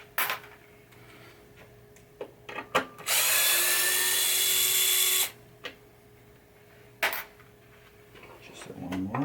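A power drill runs in one sustained burst, driving a wood screw into the playfield of a 1978 Bally Mata Hari pinball machine, with short clicks and handling noises before and after.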